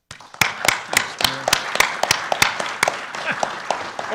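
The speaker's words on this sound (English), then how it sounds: "we should give a round of applause to Senator Hoven for all this hard work that he's done" A small group at a news conference on flood diversion and water supply funding gives Senator Hoven a round of applause: distinct, sharp individual claps from a modest crowd in a room, uneven and fairly close, with faint murmuring underneath.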